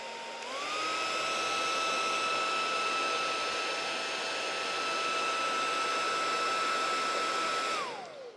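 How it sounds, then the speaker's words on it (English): A hairdryer runs steadily near the listener while warming a bottle, a loud constant whir with a high whine that switches on at the start, holds for about seven seconds, then cuts off. "you're just going to hear the sound of a hairdryer"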